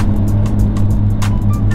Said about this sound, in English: You can really tell the difference of the exhaust note.